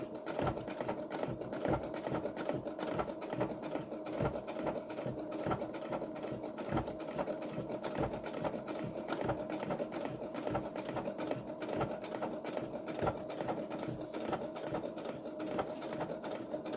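A sewing machine stitches a fabric journal cover with an Asian-inspired design, running continuously at a steady, fast rhythm throughout, close and fairly loud with no talking.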